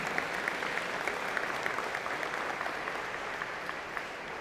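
Steady, dense applause from an audience at a university engineering and computer science convocation, continuous and fairly loud throughout without a break.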